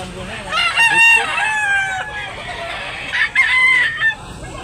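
A gamecock rooster at a poultry market in Talisay, Cebu crows loudly and close by, two long crows in a row, with faint background voices and clucking.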